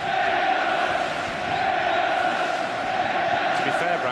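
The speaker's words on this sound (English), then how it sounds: "Just listen to the crowd getting behind England now." Stadium crowd at an England v Holland Euro 96 football match roaring and chanting in a dense, continuous wall of sound, with a commentator talking over it.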